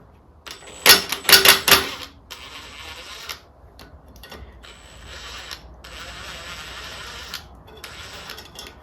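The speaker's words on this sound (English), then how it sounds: "So I'm going to very gently use the impact driver for this." An impact driver works a pulley off a Bolens Ride-a-matic tractor engine, first a few loud sharp hammering bursts, then several longer, softer whirring runs separated by short pauses, close by.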